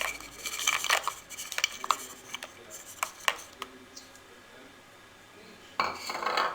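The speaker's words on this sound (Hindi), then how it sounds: "अब इसको हम अच्छे से मिक्स कर देंगे" A spoon clinks and scrapes against a bowl while mixing tutti frutti cake batter, with quick irregular metallic taps, a quieter pause, then renewed clatter.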